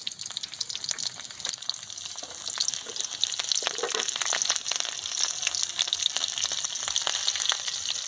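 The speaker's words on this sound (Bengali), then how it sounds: "ফোড়ন করার জন্য কড়াতে দিয়ে দেবো সরষের তেল, কাঁচা লঙ্কা চিরা," Mustard oil sizzling in a kadai as split green chillies and panch phoron go in for tempering, a bright steady crackle that builds and thickens after a couple of seconds, with sharp spitting pops throughout and no voices.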